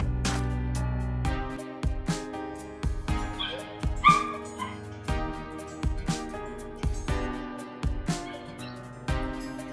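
A dog's soft whimpers and yips recur among sharp rhythmic beats of loud background music.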